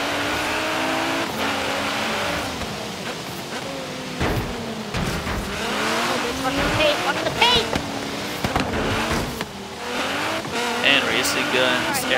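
A 2017 Nissan GT-R in the racing game Forza Horizon 3 roars through constant revving and gear changes, with squealing tires and skids, loud and continuous while people talk over it.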